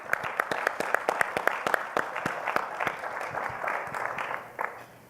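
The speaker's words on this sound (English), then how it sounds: "let's give them a round of applause as well" Dinner guests at a healthcare forum in Louisville break into applause, with distinct claps standing out near the front of a sustained crowd clapping that fades toward the end.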